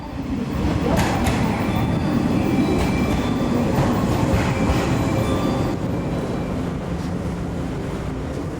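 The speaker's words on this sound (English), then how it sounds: "we took a train out to the city of Takamatsu on the island of Shikoku" A train travelling to Takamatsu on the island of Shikoku, Japan, gives a steady, loud interior rumble with rhythmic track noise and faint squeals, continuous throughout.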